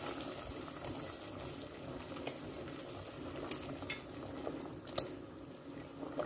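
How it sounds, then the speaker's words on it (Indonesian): Shrimp and squid dumplings go into a pot of boiling water, with a steady bubbling hiss and a few small splashes and clicks, fairly quiet. "Lanjut, kita mau masukkan aja pangsitku, kita rebus."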